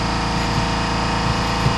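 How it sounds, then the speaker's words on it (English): A steady mechanical drone of a compressor motor running continuously, loud and close, with faint periodic thumps and no voices. "Sorry about the compressor noise there."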